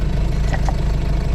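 Ford Focus car engine idling while warming up, a steady low rumble close by with a couple of faint clicks over it.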